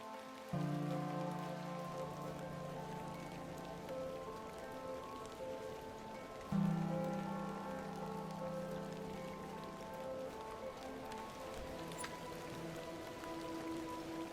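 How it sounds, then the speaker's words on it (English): Video game rain in The Excavation of Hob's Barrow patters continuously on muddy fields, with a low droning tone underneath that restarts partway through; no voices. "It's always raining as we walk across the muddy fields."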